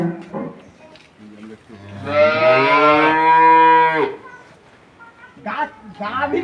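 A Holstein Friesian dairy cow lets out one long, loud, close moo that rises and holds before fading, with people talking just before and after it.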